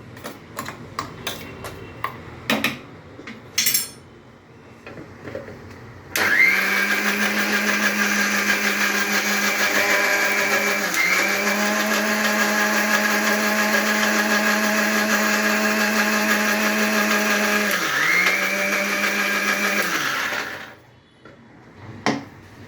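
A kitchen mixer grinds spice paste finely for varan dal with a loud, steady motor whine that runs for about fourteen seconds. The pitch dips briefly twice. Scattered clicks and handling sounds come before the run and after it.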